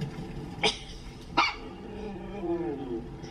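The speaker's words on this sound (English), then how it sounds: "Look how tiny this chihuahua puppy is." A tiny chihuahua puppy indoors gives two sharp, high yips about a second apart, close and fairly loud, followed by a soft whimpering whine.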